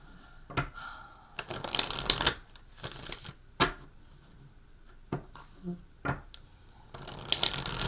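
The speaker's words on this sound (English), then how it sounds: "let's just shuffle up and pull out some cards" Tarot cards are shuffled in quick riffling bursts with pauses between, a few soft taps and slides close by, and a brief murmur of voice in one gap.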